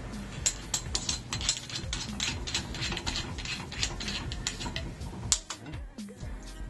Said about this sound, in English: to attach the focusing rack, you're going to go ahead and unscrew this bottom piece